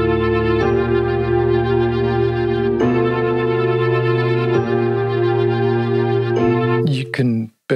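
A software synthesizer plays a hybrid instrument patch built from plucked, fast-attack percussive sources: four sustained, harmonically rich tones start in turn at even intervals, steady and loud, then cut off with a few short clicks at the end.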